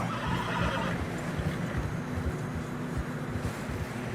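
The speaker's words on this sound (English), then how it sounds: "Horses are struggling." Horses in deep fresh snow in the video game Red Dead Redemption 2, neighing and whinnying over a steady bed of muffled hoof thuds and trudging, close and fairly loud throughout.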